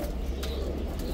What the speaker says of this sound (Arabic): هاي طيرنا هنا بجسر دياله